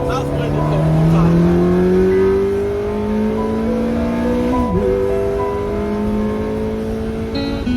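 A car with an automated clutch accelerating, its engine note rising smoothly and steadily as it builds speed, with a brief dip at a gear change before climbing again; loud and close.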